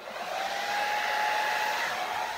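A hair dryer blows steadily close by, pushing acrylic paint across a Dutch pour canvas with a continuous loud whooshing roar and a faint tonal whine.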